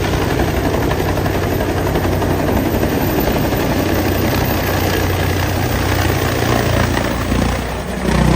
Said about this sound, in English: Helicopter splashes into the waves